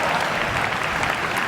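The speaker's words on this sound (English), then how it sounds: "hang on to that applause." An audience at a comedy keynote performance applauds after a knife juggling trick, producing a dense, loud burst of clapping that fills the short moment with no talk.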